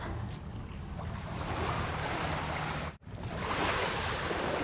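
Steady rushing surf of sea waves at high tide, broad and continuous, with a brief dropout partway through before the roar resumes.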